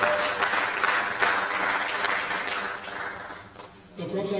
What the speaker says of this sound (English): A round of applause once again, please.